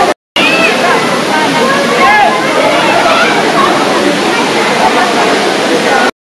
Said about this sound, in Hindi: यहाँ पर आप देख सकते हो बहुत सारा पानी वाटरफॉल की तरफ नीचे जा रहा है